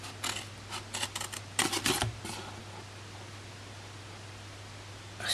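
Scissors cut through cardstock for an Easter basket: a run of short, crisp snips and rustles close by, clustered in the first two seconds and followed by near silence.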